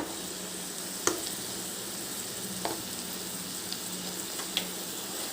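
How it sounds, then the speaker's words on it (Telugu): Dwarf copper leaves (ponnaganti) fry gently in oil with a low, steady sizzle and a few sharp pops and spoon taps, quiet and close, no voices. "సో కాసేపు ఆయిల్లో మగ్గనిద్దాం"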